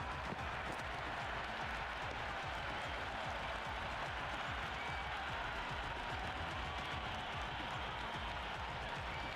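Cricket 26 video game stadium crowd applauding a six in a New Zealand versus Sri Lanka match, a steady, dense roar of clapping and cheering that holds level throughout.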